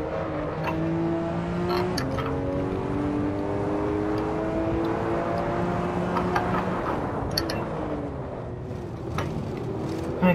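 Race car in Assetto Corsa driving hard, the engine droning and revving through steady gear climbs and shifts, loud and continuous with no talk over it.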